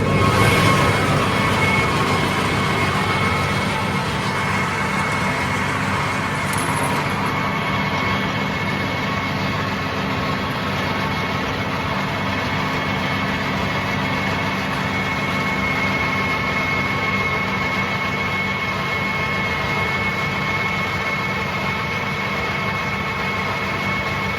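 A tractor engine with PTO driving a silage wagon drones continuously with a constant low rumble and mechanical whine, no pauses, close and loud throughout.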